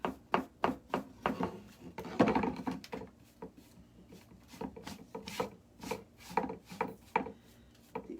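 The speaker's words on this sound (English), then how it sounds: "So I'm just going to brush off this" A brush sweeps repeatedly across a scrap wood board to clear off excess glitter, making about fifteen short, rhythmic scratchy strokes with a brief pause and one heavier rub partway through, close up with no talking.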